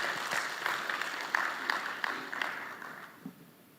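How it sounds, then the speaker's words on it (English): Conference audience at an award ceremony opening applauds a presenter, steady moderate clapping that gradually thins out and fades toward the end. "Let's applaud Dr."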